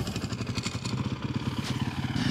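An adventure motorcycle rides across loose, soft sandy ground during a riding skills training session in South Australia, its engine chugging in a steady, pulsing rhythm with gritty clatter, close and moderately loud.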